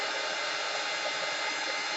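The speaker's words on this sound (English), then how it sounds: "Have my heat tool to dry it out with." A heat tool blowing hot air to dry fresh paint gives a steady, even whooshing hiss that holds unchanged throughout, fairly close and moderately quiet.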